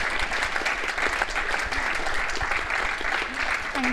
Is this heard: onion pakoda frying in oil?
no